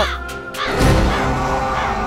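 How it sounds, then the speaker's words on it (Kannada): A crow caws in a few harsh, raspy calls, fairly close and clear, with no talk over it. "ಹಾರಿ ಹೋಯ್ತು ಕಾಗೆ"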